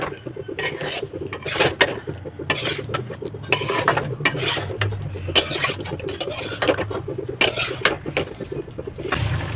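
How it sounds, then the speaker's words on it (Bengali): Large pieces of meat being stirred in a cooking pot, with a spoon scraping and knocking against metal in irregular clanks and scrapes, close and fairly loud, with no talk. "মাংসটা দিয়ে একটু নেড়ে ছেড়ে নিই।"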